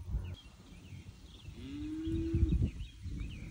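A single long, drawn-out moo from cattle at feeding time rises and holds near the listener, set against rustling, shuffling and distant farmyard noise with faint birdsong.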